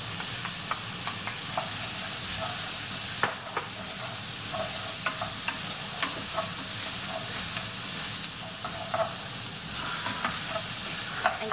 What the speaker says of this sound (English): So the first thing I'm going to do is add the onions or shallot, and I'm also going to add in the carrots and the celery.